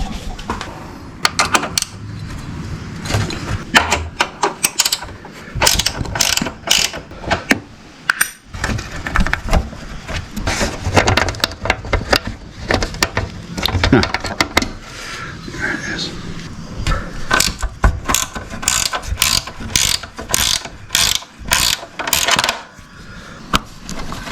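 A spanner clicks and clanks while bolts are worked loose from the seat of a Suzuki A100 motorcycle, a run of sharp metallic taps and rattles in irregular bursts, with a person talking intermittently.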